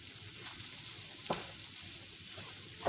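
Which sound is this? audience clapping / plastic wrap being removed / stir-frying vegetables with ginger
stir-frying vegetables with ginger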